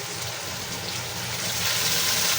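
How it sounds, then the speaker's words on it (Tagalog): Water poured into a cooking pot of chicken for a creamy chicken mushroom dish, a steady continuous splashing gush that holds for a couple of seconds with no talk. "Dagdagan ko pa po ng kalahating cup ng tubig."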